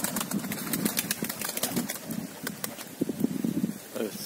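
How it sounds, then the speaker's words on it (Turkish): Young homing pigeons land nearby in a flurry of repeated wing flaps and rustles, the quick beats clustering in short bursts over light outdoor wind. "kuşlar indi."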